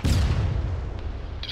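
An anti-tank rocket launches at a tank in a military video game, a heavy low boom that rolls out and fades over a second, loud and close, with a faint click at the end.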